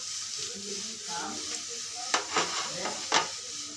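Ground cumin, coriander, salt, Kashmiri chili powder and turmeric stirred and fried in a pan for egg curry, a soft steady sizzle under several sharp scraping stirs of a spoon against the pan.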